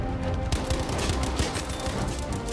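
Tap-fired gunfire in Battlefield V, a rapid string of sharp shots from an STG rifle crackling amid busy game battle noise, fairly faint and evenly spaced.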